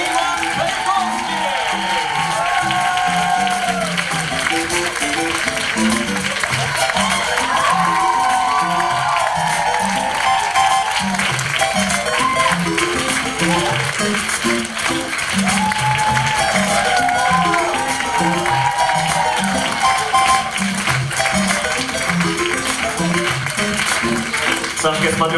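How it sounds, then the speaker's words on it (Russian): A studio audience at a televised karaoke show applauds and cheers steadily throughout, with a host talking over the crowd. "Встречаем под ваши аплодисменты Александр Костенко и Иван Кайковский."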